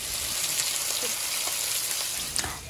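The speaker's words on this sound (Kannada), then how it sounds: "ತವಾ ಫ್ರೈ ಮಾಡ್ಕೊಳ್ತಾ ಇದ್ದೀನಿ." Marinated fish tava-frying in a pan, a steady, close crackling sizzle of hot oil with a few sharper pops, continuous throughout and heard alone.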